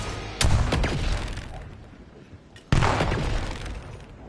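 A frag grenade explodes in the video game Call of Duty Black Ops 7, giving two sharp, loud blasts about two seconds apart, each fading into a debris-like rumble.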